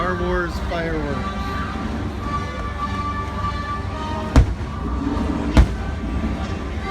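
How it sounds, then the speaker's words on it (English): Star Wars fireworks show at Disney's Hollywood Studios, heard as a crowded outdoor din with people talking and two sharp, loud booms about a second apart near the end. "Star Wars fireworks."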